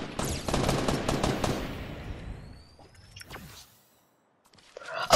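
Rapid automatic gunfire in a video game rattles loudly for about two seconds, then tapers off into a fading tail and near silence before a few scattered sharper game sounds at the end.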